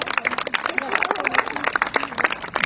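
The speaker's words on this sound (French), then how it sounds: "On peut les applaudir." An audience at an open-air cinema evening claps and cheers in a dense burst of applause, busy with crowd babble throughout.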